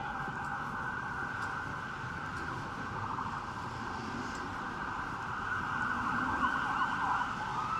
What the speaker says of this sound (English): Those are our first sirens of the night.